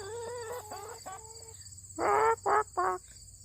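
Garden chickens, including a rooster, cluck and call close by, a run of short rising notes followed by three louder bursts of clucking, with a faint high hum in the background.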